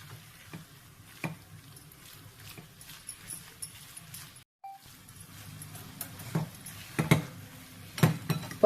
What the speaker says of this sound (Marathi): पनीर आता व्यवस्थित ढवळून घेतलेलं आहे.